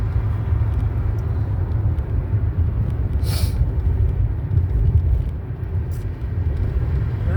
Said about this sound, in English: Rush hour traffic